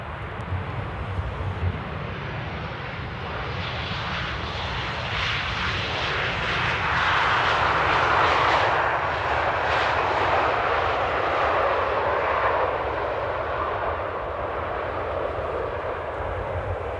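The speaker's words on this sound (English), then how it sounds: "Transavia coming in from Porto with a Virgin engine cover" A Transavia airliner arriving from Porto at Amsterdam airport, one engine carrying a Virgin cover, makes a steady jet roar that swells to a peak midway through and then slowly fades, with no voices.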